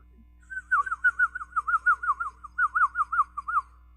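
A person whistles imitation bird calls, a long run of rapid warbling, trilling notes in two phrases with a brief pause between, clear and close with no talk.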